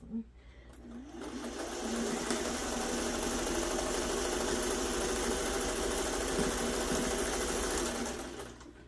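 A foot-pedal sewing machine stitching a quilt block, whirring up from quiet into a steady, loud mechanical hum with rapid needle chatter, then easing off at the end.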